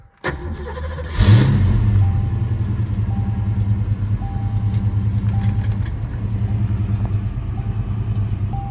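A Fox-body Ford Mustang engine with a MAF conversion cranks and catches, then settles into a steady, throaty rumbling idle, loud and close.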